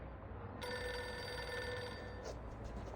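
A desk telephone rings in an office in the video game Reverse: 1999, a steady electronic trill that starts abruptly and runs for about two seconds over a faint background hum.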